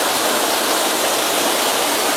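Water pours from seven spring-fed spouts into a sacred bathing pool at a Prabu Siliwangi shrine site, a dense, steady, close rush of splashing with no pauses.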